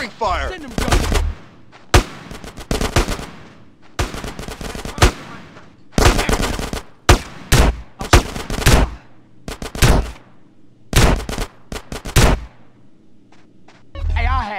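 Gunfire rattles through a mission in GTA San Andreas, loud bursts of rapid automatic shots in repeated volleys separated by short pauses, with shouting voices mixed in.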